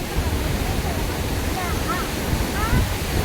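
Rushing floodwater after heavy rain in a village, a steady broadband roar that fills the whole moment, loud and continuous.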